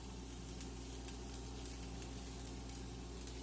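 Onion and garlic frying in hot oil for a spaghetti dish, a soft steady sizzle with faint scattered pops and crackles, no voices.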